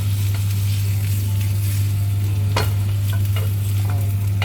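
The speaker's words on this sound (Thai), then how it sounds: "ผัดหมูก่อน" Pork stir-fried in a hot pan for Thai basil fried rice, giving a steady, loud, continuous sizzle with a few scraping stir strokes and a constant low hum underneath, no talking.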